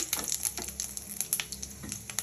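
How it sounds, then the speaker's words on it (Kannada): Cumin seeds and dried red chillies fry in a hot pan for red chutney. A soft, steady sizzle is dotted with small crackles and pops, faint and up close, with no voices. "ಕಾದ ಮೇಲೆ ಜೀರಿಗೆ ಮತ್ತು ಒಣಮೆಣ್ಸಿನ್ಕಾಯಿ ಹಾಕ್ತಾಯಿದ್ದೀನಿ ಇದನ್ನು ಸ್ವಲ್ಪ ಉಳ್ಕೊಳ್ಳೋಣ"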